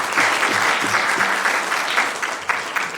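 Sustained applause from an audience at a Sacramento city council meeting, dense and steady throughout with a few sharper claps standing out near the end.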